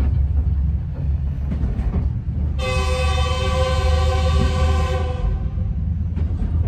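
A passenger train in Cameroon rumbles steadily along with a low, constant roar, and midway a loud sustained horn blares for a couple of seconds before fading back into the rolling noise.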